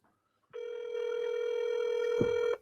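A telephone rings with a steady buzzing tone for about two seconds, unanswered, with a short thump near the end and no talk.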